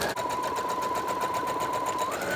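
A sewing machine stitches an envelope cushion cover in a steady rapid whirring rattle, close and even throughout the short run.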